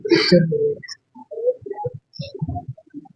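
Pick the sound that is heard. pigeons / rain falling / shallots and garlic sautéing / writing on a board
pigeons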